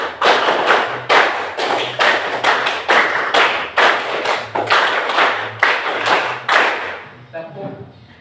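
A classroom group claps a counted rhythm pattern together, sharp bursts in repeated groups separated by brief pauses, close and loud, with a voice calling counts between them.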